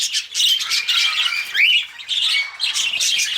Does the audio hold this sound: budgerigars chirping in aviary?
yes